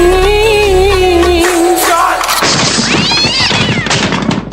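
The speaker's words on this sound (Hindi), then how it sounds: "पीछे से बिल्ली आकर उस पर छलांग लगाती है, और ये लो हो गया कांड, जिसमें बिल्ली कूदते ही लॉन्च हो गई।" A cat yowls loudly and continuously, then a burst of crashing and jumbled noise follows as it leaps onto a man doing pushups, ending in harsh, loud chaotic sound.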